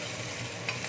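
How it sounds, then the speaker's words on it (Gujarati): Chopped garlic and ginger-chili paste stirred with a spoon in hot oil for Gujarati kadhi khichdi, a soft steady sizzle with a faint scrape, close and quiet, with no talking. "બધી જ વસ્તુઓને ચમચાથી આપણે હલાવી લઈએ અને થોડી વાર તેને પકડવા દઈએ તેલમાં"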